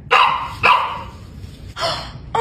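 A pet dog barks sharply indoors, four loud close barks in an uneven rhythm with short gaps between them.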